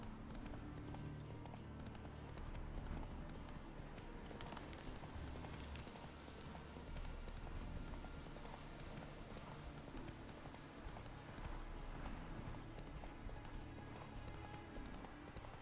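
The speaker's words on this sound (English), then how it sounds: "While riding, keep an eye on your horse stamina level." Horse hooves clip-clop in a steady galloping rhythm while riding in The Witcher 3, with a continuous dense background bed running underneath, faint overall.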